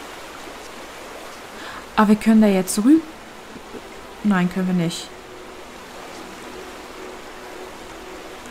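Steady rushing of a river in the video game The Vanishing of Ethan Carter forms a soft, unbroken water hiss, with someone briefly talking over it twice.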